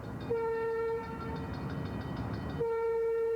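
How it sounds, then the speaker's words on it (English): A train whistle blows a long steady tone, cuts out briefly under rumbling rail noise, then sounds again, loud and fairly close. "A whistle from a train at 100 feet away registers 70 decibels."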